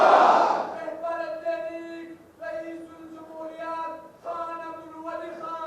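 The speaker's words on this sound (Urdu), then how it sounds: "جو آپ نعرے لگا رہے ہو، آپ کا نعروں کا بہت شکریہ" A crowd chants slogans at a rally in Peshawar. Loud voices rise together, then hold sustained, tonal chant phrases that break off and restart in waves.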